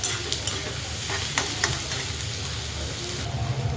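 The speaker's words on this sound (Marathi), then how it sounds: "कांदा असा भाजून घेऊया छान असा." Chopped onion sautés in hot oil with curry leaves in a pan, a close, steady sizzle broken by a few soft stirring scrapes and clinks.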